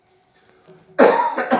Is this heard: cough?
yes